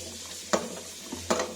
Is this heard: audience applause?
no